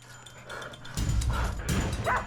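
Hunting dogs bark and yip during a boar hunt, a few sharp close barks and a whimper rising over a low rumbling background.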